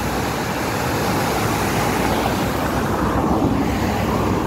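Waterfall beside the Puente del Ejército in Lima, a steady broadband rush of falling water mixed with wind and distant road traffic, continuous and fairly loud throughout with no voices.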